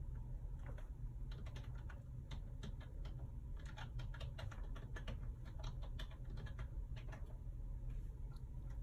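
Steady, rapid keyboard typing from fairly close by, with irregular bursts of keystrokes entering a logon ID and password on a computer keyboard over a constant low background hum. No one speaks.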